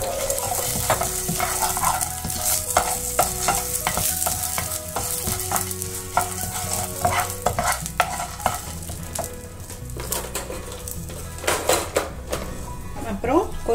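Roasted peanuts being stirred in a frying pan while cooking coconut rice, with repeated scraping and clinking of a utensil over a soft sizzle, close and continuous.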